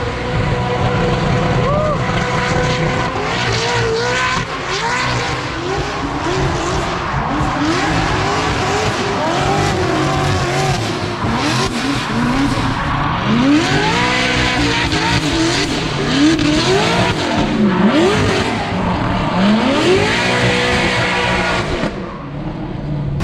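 Formula Drift car revving hard with tires squealing and skidding in loud, continuous sweeps of rising and falling engine pitch, close and dominant throughout, with voices faintly underneath.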